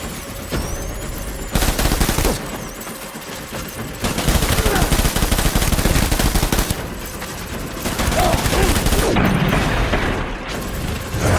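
Bursts of rapid machine-gun fire and heavy volleys in a World War II battle scene in Death Stranding, loud repeated fusillades separated by short lulls, with a voice shouting briefly amid the shooting.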